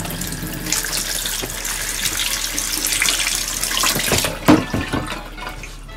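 Tap water runs steadily into a sink while a turtle's dirty, moss-covered shell is rinsed, a close hiss of flowing water with splashes and thuds near the end.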